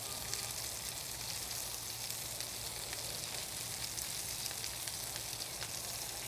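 Burgers, eggs and bacon sizzle steadily on a Blackstone griddle, a dense, even crackle of frying fat that runs unbroken and fairly close throughout, with no talking.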